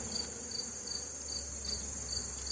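Honey bees buzz steadily around an opened hive during fall feeding, a dense close hum that grows agitated, with no voices.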